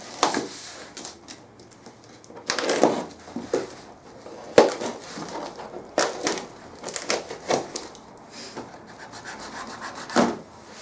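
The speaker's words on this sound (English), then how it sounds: "I'm being a little bit careful with the unwrapping." Secret Santa gift box unwrapped with care, giving soft rubbing and scraping of paper and cardboard in irregular bursts, close and fairly quiet with no talk.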